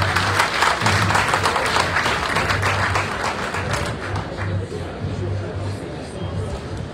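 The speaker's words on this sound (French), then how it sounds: "Applaudissons pour les chauffeurs de l'air." Sustained applause from a ceremony audience at a New Year greetings event, dense steady clapping with crowd murmur filling the whole stretch, fading slightly toward the end.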